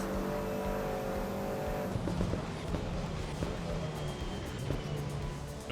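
Racing car in the Assetto Corsa Evo video game, with a steady engine roar and a high whine that cuts out near two seconds for a gear change, followed by sharp cracking pops as the revs drop, loud and continuous.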